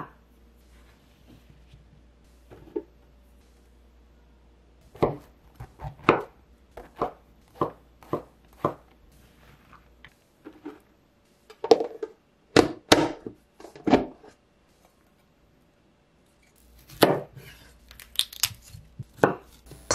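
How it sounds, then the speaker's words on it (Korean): Knife slicing button and king oyster mushrooms on a cutting board: sharp, distinct taps, first a few scattered ones, then quick runs of strokes separated by pauses, close and crisp with no talking. "양송이버섯과 새송이버섯도 썰어주시고요."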